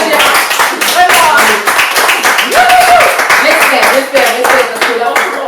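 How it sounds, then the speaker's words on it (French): An audience claps and applauds loudly throughout, a dense crowd of hands with voices talking and calling out over the noise. "On peut applaudir des milliards."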